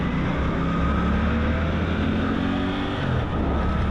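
Suzuki GSX-8R motorcycle engine accelerating with a steady, loud drone that climbs gradually in pitch, heard from close by with continuous wind rush over it.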